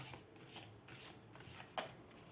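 A single tarot card being slid and drawn from a deck, soft papery rubs and shuffles with one sharper snap near the end, quiet and close with no talking.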